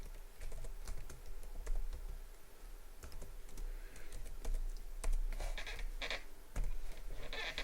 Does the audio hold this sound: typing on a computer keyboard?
yes